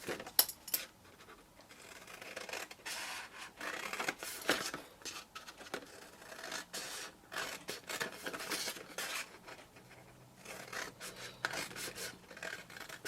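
Paper being cut by hand for a faceted gift box, heard close up as a run of soft snips and rustling paper rubs, quiet and irregular, with no talk.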